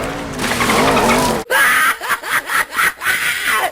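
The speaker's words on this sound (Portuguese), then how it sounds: "Tem um momento que um carro derrapa e vem um som de golfinho." Car skidding in a Final Destination film, with a dolphin-like squeal laid over it as a sound effect: a dense rush of noise, then a sharp cut into a run of short, high, chirping bursts.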